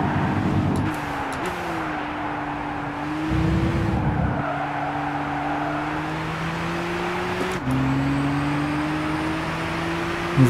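Race car in the Gran Turismo 6 GT Academy demo, a steady loud engine drone rising and falling in pitch through gear changes, with brief tire noise, close and continuous.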